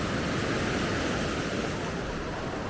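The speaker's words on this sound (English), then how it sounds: "the further I go in, the less the waves are coming in" Sea waves wash in steadily over volcanic rocks on a sunny shore near Hergla, a continuous close, loud surging hiss with some wind buffeting the microphone and no voices.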